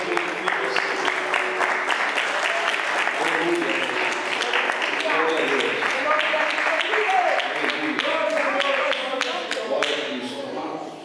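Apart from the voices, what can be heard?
congregation applauding in church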